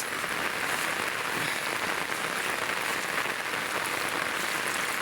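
Steady, dense rain pours down continuously, a loud even hiss of drops hitting surfaces with no pauses and no voices.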